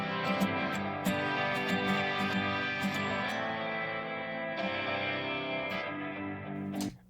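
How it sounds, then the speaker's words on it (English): A distorted electric guitar rings out sustained chords and a few picked notes, each trailing into a washy reverb tail, loud and steady. "There's some of the electric reverb in the left side there"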